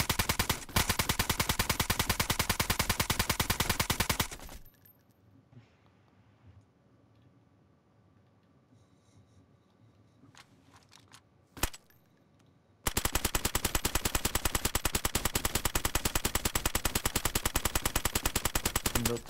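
Sustained rapid automatic gunfire in DayZ hammers at base walls, a dense unbroken burst for several seconds, then a quiet gap with one sharp shot, before the relentless rapid fire resumes at full loudness.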